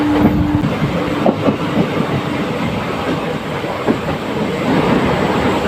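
The Punalur Madurai Express rolls along its rails near a short tunnel, a loud, steady rumble with a rhythmic clickety-clack of wheels over rail joints, heard from on board with no voices.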